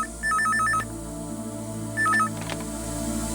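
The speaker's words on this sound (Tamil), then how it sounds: "இந்த வீட்ல ஃபோன் சத்தம் கேட்டு எத்தனை நாள் ஆச்சு?" A telephone rings inside a house: two bursts of warbling electronic trills, the first longer, the second shorter, with a quiet gap between them and no talking.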